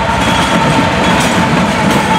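Train FEC109 rumbles steadily past at close range, a loud continuous roar of wheels on rails with a faint rhythmic clatter underneath.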